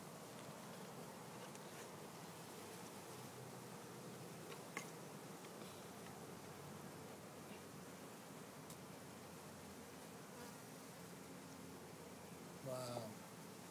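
Honeybees in a swarm trap make a steady, low buzzing drone that hums continuously, heard faintly under soft rustling, with a short scrape near the end.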